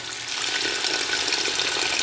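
Water poured from a cup into cooking masala for a Bengali mutton curry, a steady close splashing pour with a soft sizzle that runs the full clip at even loudness without pause.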